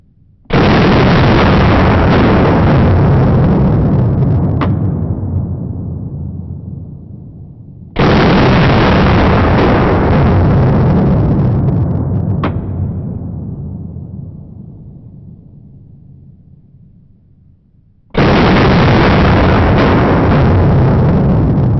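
Three single gunshots come from a Colt Commando AR-15 clone rifle at a shooting range. Each is a very loud, sharp blast followed by a long fading tail, spaced several seconds apart.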